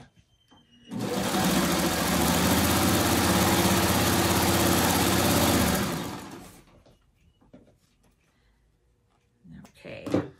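A sewing machine runs continuously for about five seconds, stitching the corner of a quilt block with a loud, fast, even mechanical whir close by, then stops. Faint handling noises follow, with a brief bit of talk at the end.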